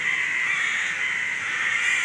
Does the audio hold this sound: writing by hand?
no